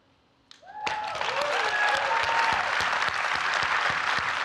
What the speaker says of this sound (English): A big round of applause for Hilton Kelly, everyone.